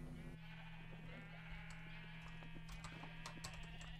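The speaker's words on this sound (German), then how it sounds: "nur die Schafe mäht nicht so viel, sonst tue ich euch wegmähen" Sheep bleat in a video game, a few short overlapping bleats over a steady low hum and background game sounds, fairly quiet throughout.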